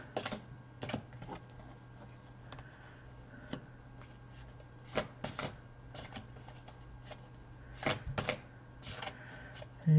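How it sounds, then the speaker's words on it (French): Tarot cards being shuffled and drawn, with a scattered run of soft, quick card slaps and flicks over a steady low hum, several sharper snaps clustered near the end. "Je vais tirer d'autres cartes là-dessus"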